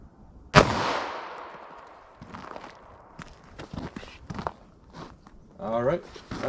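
A 9mm handgun fires a single sharp, loud shot into a block of clear ballistic gel, followed by a ringing decay, then footsteps, scuffs and handling noises close by.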